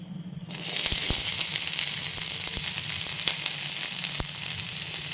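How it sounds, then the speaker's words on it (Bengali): Chopped onions drop into a little hot oil for a dhaba-style egg tadka and break into a steady, close sizzle, dotted with sharp crackles and pops that continue without pause. "কুচি পেঁয়াজগুলো ছেড়ে দেবো।"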